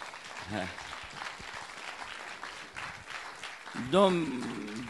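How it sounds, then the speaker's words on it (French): An audience at a film-team interview at the Les Arcs Film Festival applauds steadily, a dense patter of clapping filling the room, with a few voices calling out and one rising cheer near the end. "eh bien on peut applaudir Anne-Sophie."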